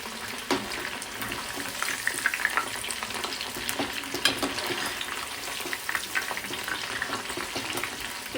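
Chicken 65 pieces deep-frying in a pan of hot oil, a steady close sizzle and bubbling with occasional crackles and pops, no voices.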